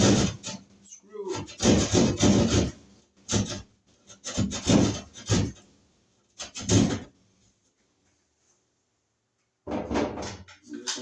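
A screw is used to cut a notch in wood while wiring a new outlet, giving close, bursty scraping and rasping strokes in several groups, with a pause before a final burst.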